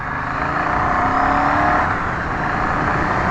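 A backup vehicle driving on a road in Coorg, Karnataka: a steady, loud engine and road rumble heard from close by, with no talking.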